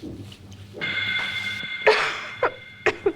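A woman coughs in a series of sharp, close bursts during an indoor drama scene: one heavy cough followed by several shorter ones in an uneven rhythm, over a soft sustained musical background.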